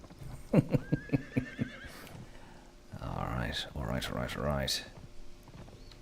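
A horse in a video game gives a loud whinny, followed by a run of quick clip-clopping hoofbeats and a second drawn-out neigh, with a voice speaking briefly.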